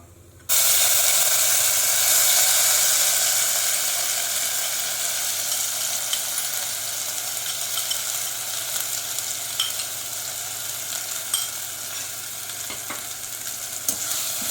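Ground masala sizzles and fries in a pan with fennel seeds already crackled in oil, a loud, dense, steady hiss that starts abruptly and holds throughout, with occasional stirring clicks.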